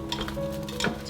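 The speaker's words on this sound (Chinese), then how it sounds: "搅拌均匀。" Chicken feet with beer and seasonings get stirred in a pressure cooker pot, a short burst of wet sloshing and scraping with a light sizzle underneath.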